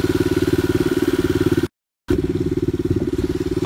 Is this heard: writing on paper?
no